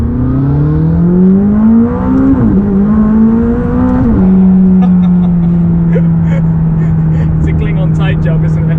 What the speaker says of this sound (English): more burbles, more kick, pops and bangs, more exhaust noises